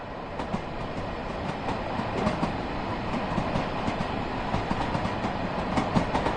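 Train running in Train Sim World 2 on a preserved route, a steady dense rumble of wheels on rails with faint rhythmic clickety-clack joints throughout, loud and continuous with no talking.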